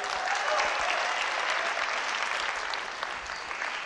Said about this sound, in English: a big round of applause to Tripping Heart